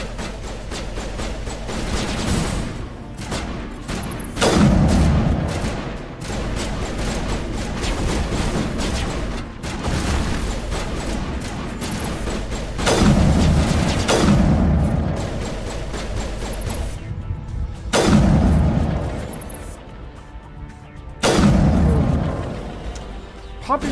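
Gunfire in the video game Mass Effect: repeated loud sharp shots and bursts, some heavy and booming, spread across a dense, continuous battle soundscape with no talking.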